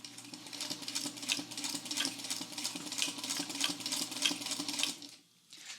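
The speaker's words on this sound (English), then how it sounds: "now the machine's going to start to sew" A domestic sewing machine starts sewing, its needle mechanism whirring in a quick, even rhythmic chatter that runs steadily for about five seconds before stopping, heard up close with no talking.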